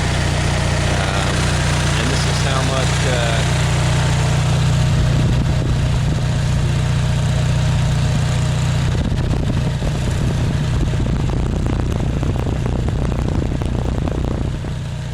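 A gasoline generator fitted with an HHO generator drones loudly and steadily with a deep, even hum and rattling texture, while a person talks briefly over it.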